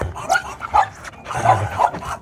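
Dogs bark in several short, sharp bursts, fairly close, with brief pauses between them.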